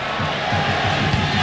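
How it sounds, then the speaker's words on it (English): A football stadium crowd at a USA versus Mexico World Cup qualifier roars continuously in a dense, loud wash of cheering and yelling over a brief span. "Fans screaming and yelling for 90 minutes."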